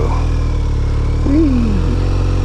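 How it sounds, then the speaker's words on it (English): A BMW R 1250 RS motorcycle with Akrapovic open headers and the catalytic converter removed rumbles in a steady low drone. It runs continuously at close range, with a brief rise and fall in pitch partway through. "I have akrapovic open headers, so I've gotten rid of the cat. I still have the valve inside, so it's not as loud"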